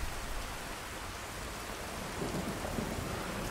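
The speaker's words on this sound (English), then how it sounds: "Very hard to see with all this rain coming down." Heavy rain pours down during a thunderstorm in the Skyrim video game, a steady loud wash of rainfall with a low rumble of thunder building beneath it toward the end.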